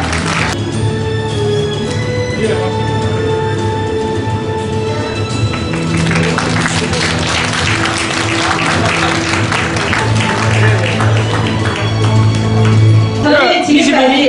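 Audience applause at a Dongguk University alumni freshman welcome event held at an army hall, a broad clapping texture that swells through the middle and end, mixed under music and a voice speaking.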